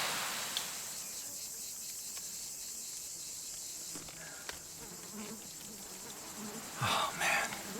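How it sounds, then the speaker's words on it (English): Mosquitoes at night around a canoe give a thin, continuous high whine, faint and steady throughout, with a few soft knocks and rustles near the end. "I can just hear the mosquitoes are buzzing and they're echoing"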